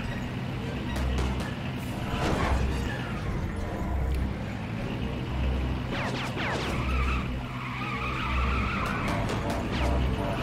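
Vehicle driving and tire skids in the Lego Indiana Jones 2 video game, a steady engine drone with repeated squealing slides, rhythmic low thumps and scattered game effects throughout.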